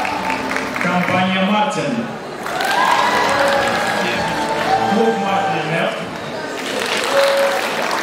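Audience applause fills a hall at a student spring concert, steady clapping under a presenter's amplified voice announcing sponsors.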